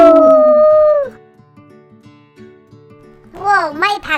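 Children's voices imitate a wolf howl, one long rising-then-falling howl at the start and a second ragged chorus of several young voices near the end, with quiet music between.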